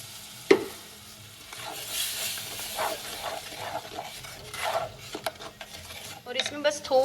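Tomatoes hit a pan of roasted besan with a sharp clatter, then stir and sizzle in bursts of scraping and frying noise, close and moderately loud with no talking.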